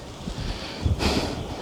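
Wind rushes past the microphone at Silverstrand Beach as a low, steady rumble, with a stronger gust buffeting in about a second in. No one speaks.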